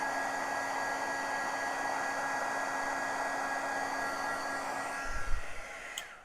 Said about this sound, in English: let's heat up our tool and melt the powder